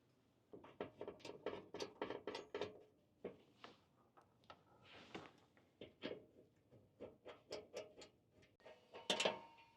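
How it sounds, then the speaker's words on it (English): Small bolts being tightened from underneath during an upper shelf install in a 2024 Toyota Land Cruiser, giving repeated ratcheting clicks in quick bursts with short pauses, moderately close and with no talk. "Then we're gonna use the rest of those little bolts and tighten it up from the bottom."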